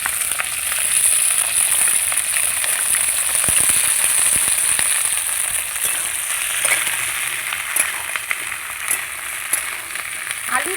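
Potatoes and onion greens frying in a pan make a loud, close, steady sizzle with scattered crackles and pops, punctuated by faint stirring clicks.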